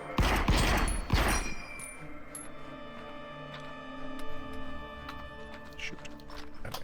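A dense burst of gunfire from the VR shooter The Light Brigade fills the first second. A quieter pop follows, then lingering ringing tones as the shots fade.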